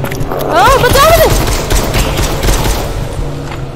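Gunfire crackles in the VR zombie shooting game Propagation VR, a shotgun among the weapons, as rapid bursts of shots run under excited Hindi-speaking players who talk over most of the action.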